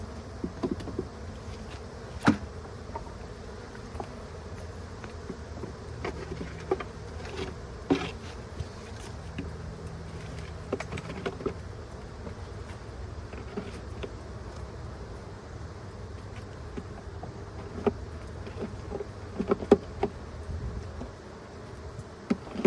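Honeybees buzz steadily around an opened, smoked hive, a continuous droning swarm close by with occasional louder passes of individual bees near the ear.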